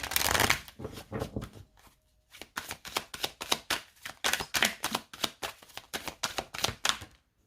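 A deck of tarot cards is shuffled close by: a long riffle at the start, a brief pause, then a run of quick, rhythmic flicking bursts with no talking.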